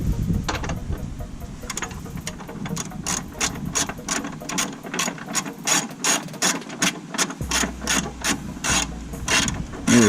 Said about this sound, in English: Let me grab this ratchet real quick.